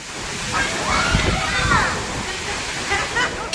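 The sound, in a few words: heavy rain and wind storm, water pouring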